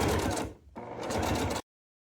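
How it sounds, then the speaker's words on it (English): A sewing machine runs a straight stitch to attach edging along the short side of fabric: two close, steady mechanical runs split by a brief slowdown, then an abrupt stop. "step one is just to sew this edging on your short side. So I'm just going to use a straight stitch."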